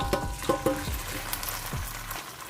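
Okra dropped into hot oil, crackling and sizzling in a pan with a few soft clatters of pieces landing, close and fairly quiet, no talk.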